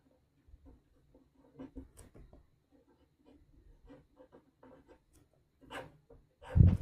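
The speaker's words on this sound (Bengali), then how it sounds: "এখানে আপনাকে ভালোবাসার নাম লিখতে হবে" Pen scratching across paper as a name is written, a run of soft, intermittent scribbling strokes close by, quiet and uneven, with a louder thump or rub at the very end.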